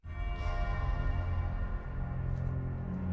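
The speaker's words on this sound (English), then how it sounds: "church bell" Church bell tolling in the Mohg boss music from the video game Elden Ring, deep sustained ringing tones with long resonant overtones, loud and continuous, with the orchestral music swelling beneath it and no talking.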